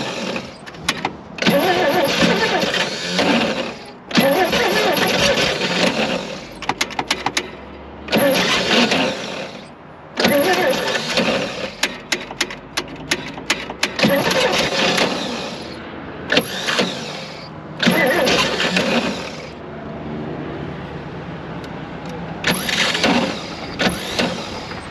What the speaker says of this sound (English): That fan's gonna make a lot of noise.